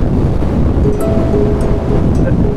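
Indus River in Pakistan, a loud constant rushing roar of flowing water mixed with wind buffeting the microphone, steady throughout with faint brief clicks.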